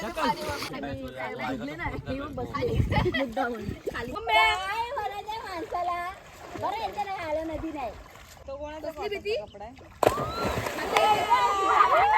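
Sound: water splashing at a river while swimming and washing clothes

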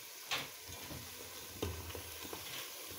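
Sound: onion and salted fish frying

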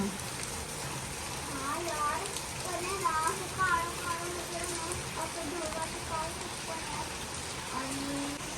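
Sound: heavy rain falling

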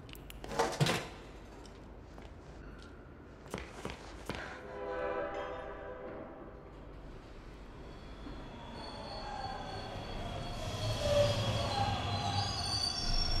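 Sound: train arriving in video game Bendy and the Dark Revival

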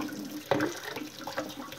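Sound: hot water running from sink faucet

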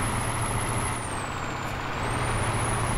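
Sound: truck air brake in American Truck Simulator video game

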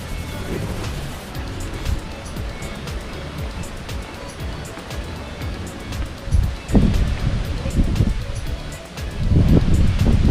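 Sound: strong wind

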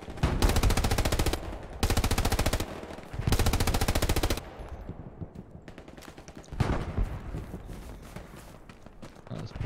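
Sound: automatic rifle gunfire in video game Hell Let Loose

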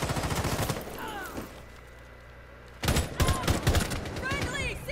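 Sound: gunfire from a video game

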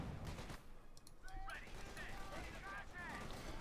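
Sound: machine gun crew firing in Company of Heroes 2 video game

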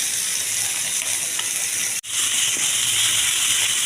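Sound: pomfret fish frying in a pan

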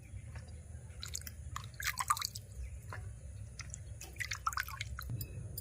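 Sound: washing ripe bitter gourd seeds in water

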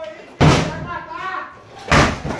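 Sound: banging on a locked bedroom door

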